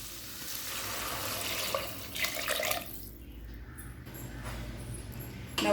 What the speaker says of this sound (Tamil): அடுத்தது இதில் 3 கப் தண்ணி சேர்த்துக்கலாம்.